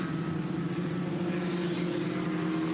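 A dirt track race car running rough at a Friday night race in Southern Ontario, its engine a steady, loud, close drone with a low buzzing hum and no let-up, heard alone.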